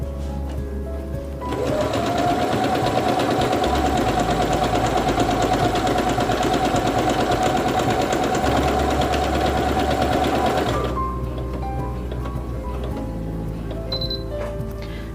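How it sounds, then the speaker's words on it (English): A Singer Quantum Stylist 9960 sewing machine stitches out a programmed letter sequence, running steadily and loudly for about nine seconds with a fast mechanical whir, then stopping into quiet room tone. "Now the stitch sequence is ready to sew. Now let's stitch it out."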